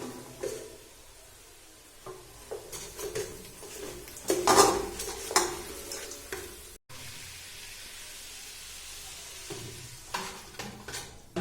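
A spiced curry gravy with chili and coriander powder is stirred in a pan; a spoon scrapes and clinks against the metal over a soft, continuous simmering sizzle.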